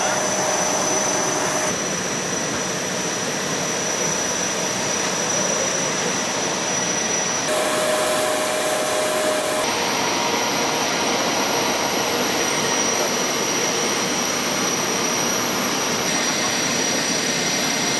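Lufthansa Airbus A350 jet engines roar loudly and continuously during a low approach, a steady close rumble with no breaks throughout.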